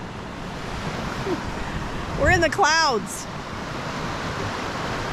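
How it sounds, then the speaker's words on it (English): Waterfalls near Isafjordur, Iceland, give off a constant broad rushing roar in the background, with a person speaking briefly over it. "There's waterfalls everywhere."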